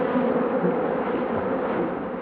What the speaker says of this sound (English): That looked like an ordinary swarm collection.